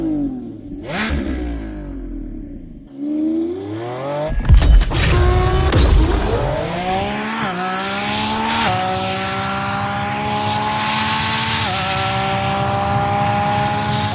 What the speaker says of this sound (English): the sound that this V12 produces is unreal